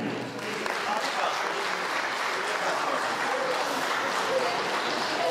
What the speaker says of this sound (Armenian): եկեք ծափահարենք